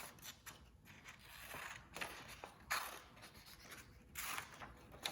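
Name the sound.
scissors cutting paper warp in zigzag for paper weaving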